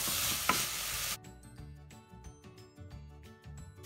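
Broad beans, leeks and peas warming in a pan, a loud broadband sizzle at first that abruptly drops to quieter scattered crackles and stirring clinks.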